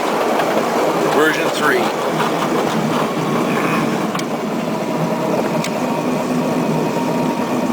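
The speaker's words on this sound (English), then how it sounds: "For those of you who ever wanted a model railway in your backyard, this is the ultimate." Ride-on backyard model railway train running on track at low speed, a steady rolling rumble with faint clicks throughout, as someone talks over it close by.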